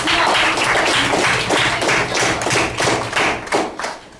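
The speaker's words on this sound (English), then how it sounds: "Can we give them a round of applause?" An audience gives a round of applause at a poetry session, with clapping and thumping coming in dense, loud bursts that rise and fall before tapering off at the end.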